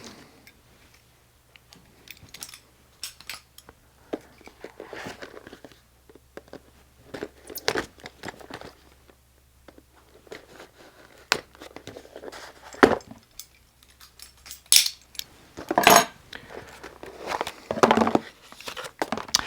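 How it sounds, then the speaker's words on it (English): Packaging for a Hipshot bass bridge and tuners is cut open with a knife, scattered clicks, crinkles and sharp snaps, irregular and close, growing busier toward the end. "So I need a knife to open these."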